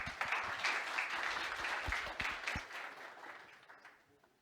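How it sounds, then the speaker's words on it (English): An audience at a sustainability conference gives a burst of applause, dense clapping for a few seconds that thins and fades out toward the end. "A round of applause, please."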